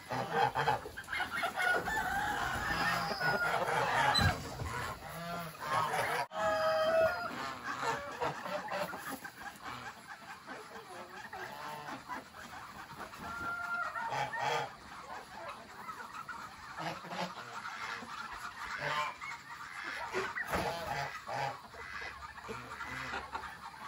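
Chickens cluck and squawk continuously, with geese honking and a rooster crowing among them, a busy, lively flock close by with no talking.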